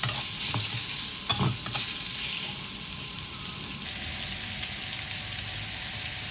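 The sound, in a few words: stir-frying young pork ribs in a pan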